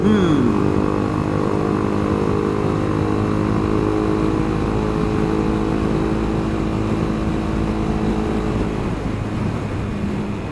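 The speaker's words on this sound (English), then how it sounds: "My bike's more stable at high speeds than his is" Motorcycles cruising at high speed on roads around Sauvie Island in July, a steady loud engine drone with wind rush filling the whole stretch, no talk over it.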